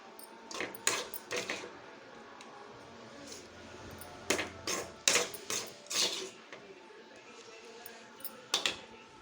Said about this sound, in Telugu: ఇప్పుడు ఇది మిక్సీ జార్లో వేసుకుందాం